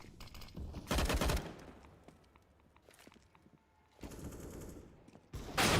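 Bursts of AK rifle fire in a Counter-Strike esports match, loud rapid volleys clustered around the start, middle and end, with scattered single shots and footsteps in between.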